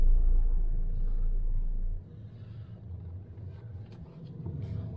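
Salvage-auction car idling and pulling away on a residential street, with a strong low engine rumble that drops off after a couple of seconds and then builds again as it runs through the gears.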